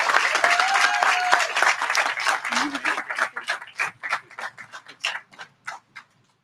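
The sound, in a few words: audience applause at a graduation ceremony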